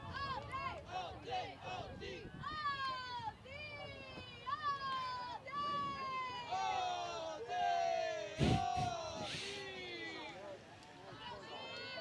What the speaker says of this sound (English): they're chanting all D all day